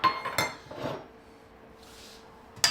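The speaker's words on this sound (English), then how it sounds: "Give it a stir up" Spoon clinking against a bowl while pecan halves are stirred into pie syrup, a few quick sharp clinks and scrapes near the start, a soft rustle, then one last clink.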